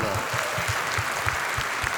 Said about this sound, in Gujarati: એટલે એકવાર મણિરાજભાઈને જોરદાર તાળી હતો